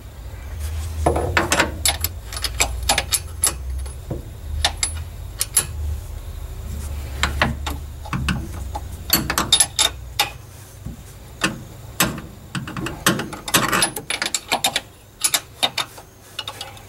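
Clicks, ticks and scrapes come as a wrench tightens an electric fuel pump fitting on a 1965 Corvair. The metallic sounds are close and irregular, with short bursts and pauses and a low hum underneath.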